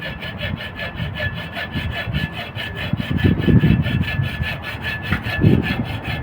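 A hand saw cuts through a Chevrolet Aveo car air conditioning pipe with steady back-and-forth rasping strokes in an even rhythm, close and loud throughout.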